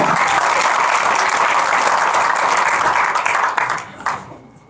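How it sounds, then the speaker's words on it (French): A conference audience gives a loud, sustained round of applause that holds steady, then thins into scattered claps and fades out near the end. "Un tonnerre d'applaudissements."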